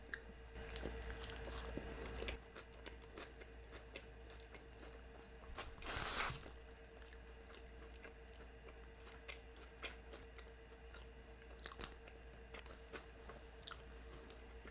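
Close, wet chewing and squishing of a tender suadero beef taco, steady soft bites continuing for several seconds with occasional louder crunches and no talk.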